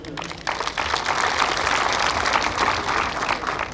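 An audience at an evening cocktail event at the National Police School breaks into sustained applause, dense and even clapping that swells quickly and continues strongly throughout.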